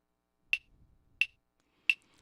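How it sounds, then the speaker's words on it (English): A cowbell strikes three sharp, evenly spaced hits, steady at 88 BPM, keeping time for a Ghana gospel highlife track; each hit is bright and short, panned left, alone with no other sound. "So we just decided to use a cowbell that sounds something like this."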